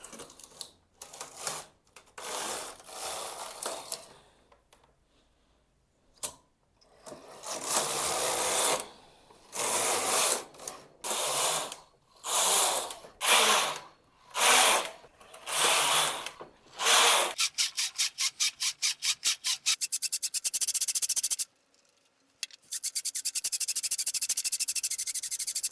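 Domestic knitting machine knitting a sweater arm: the carriage is pushed back and forth in repeated rasping, rattling sweeps with short pauses between passes, loud and close, followed by a fast ticking clatter at the end.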